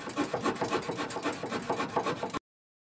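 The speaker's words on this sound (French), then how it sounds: "Et je finis la râpe." A hand rasp files the edge of a wooden board for an outdoor shower enclosure in a workshop. It makes a continuous, close, rhythmic scraping rasp of back-and-forth strokes lasting about two and a half seconds, then stops abruptly.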